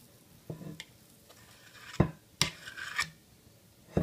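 An ice cream scoop dragging through cookie dough, a series of close, scraping rasps and rubbing strokes in short irregular bursts, quiet between each pull.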